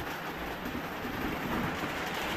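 Heavy rain pours down steadily outside a rural nipa hut, a dense continuous hiss with a low rumble beneath, unbroken and without voices.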